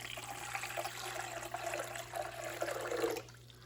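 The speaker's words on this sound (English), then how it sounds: "I'm going to add 2 cups of warm water" Warm water pours steadily into a stand mixer bowl for a few seconds in a home kitchen, a constant rushing splash that fades out near the end, with no voices.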